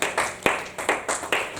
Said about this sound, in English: Clap your hands and begin to worship God.